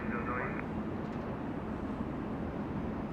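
A British Airways heavy jet arriving at Los Angeles International Airport gives a steady, loud broadband roar that stays even throughout, with a brief whine early on.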